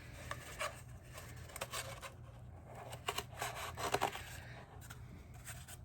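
Scissors snip and rub through material at a crafting table during a yarn-winding project, quiet intermittent cutting and scraping strokes with no talking.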